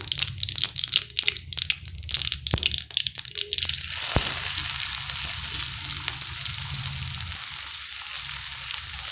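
Mustard seeds crackling in hot oil give way to a loud steady sizzle as onions drop in for a broad beans poriyal, with busy popping at first and then a constant close frying hiss.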